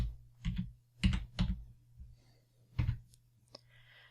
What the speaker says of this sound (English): So when I type in the numbers,